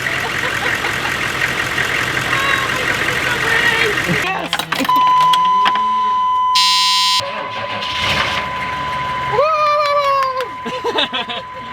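A bus engine idles with a low rumble, then chimes and a long alarm-like tone sound as it starts, while people talk over it.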